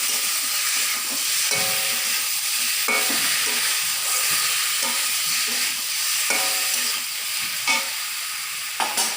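Spices frying in oil for a taro-stolon and prawn dish, a bright, steady sizzle broken by repeated scraping and stirring strokes of a spatula against the pan.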